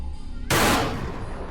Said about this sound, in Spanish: Y en aquel momento apreté el gatillo.